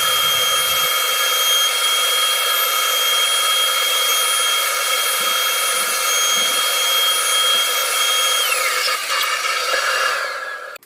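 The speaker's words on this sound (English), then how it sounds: "now I'm just taking that router bit and the pattern following the template there" A router with a pattern bit trims a mahogany wood body to a template, giving a loud, steady high-pitched whine close up that holds for about ten seconds before spinning down at the end.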